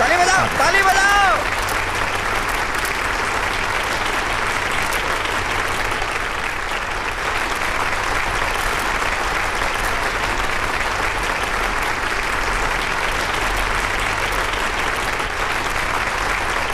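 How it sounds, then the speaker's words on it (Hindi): Sustained loud applause from a large audience at an event in a Hindi-dubbed Ravi Teja action film, steady dense clapping that fills the scene from start to finish with no voices. "आपकी बारी आ गई, ताली बजाओ, ताली बजाओ।"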